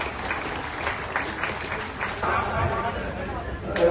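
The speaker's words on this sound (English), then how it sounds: "please give a big hand of applause to" Audience at an interschool athletic meet breaking into dense, steady applause, heard under a speaker talking over a public address system.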